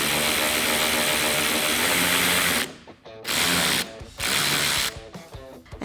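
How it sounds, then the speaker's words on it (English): A ratchet turning a 10mm socket loosens a headlight bolt on a RAM 1500 pickup, giving close, loud, steady clicking in long runs broken by short pauses. "We're starting with the one up top here with your 10mm socket, and we're using a ratchet."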